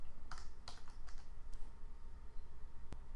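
Short bursts of typing on a computer keyboard while entering an interface name in the Eclipse editor, a few quick clusters of clicky keystrokes followed by a single sharper tap, close and fairly quiet over faint room hiss.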